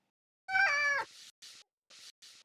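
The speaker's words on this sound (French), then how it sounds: "Son miaulement, par exemple." A cat gives a single clear, close meow that rises and falls, followed by a few short soft noise bursts.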